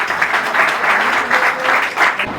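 Audience at the book release of 'Flashback' applauding author Manish Verma, a dense, continuous burst of clapping heard alone.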